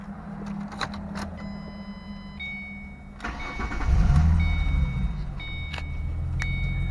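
A 2006 Ford Mustang Convertible with 113,000 miles starts up, chimes pinging before the key turns, then a loud crank and catch that settles into a steady close idle.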